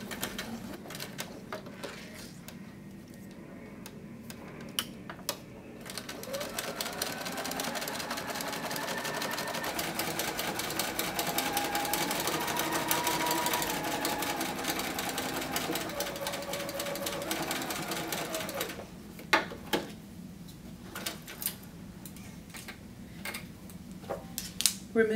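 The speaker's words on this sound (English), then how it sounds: "you sew about a scant 1/8 inch in from the inner edge of the binding" A sewing machine straight-stitches the binding of a quilted finger labyrinth in one long, steady whirring run through the middle, with quieter, sparser stitching at the start and end.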